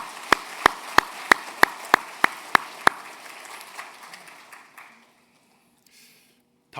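Church congregation clapping in encouragement after a prayer, a short run of sharp, evenly spaced claps, about ten in a row, then a softer scatter that fades to near silence.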